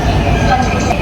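Interior of a train in Korea rolling along, a steady low rumble and rattle filling the cabin throughout, close and continuous.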